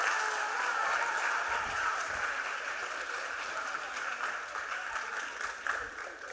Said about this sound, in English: Clap one more time for Pumpa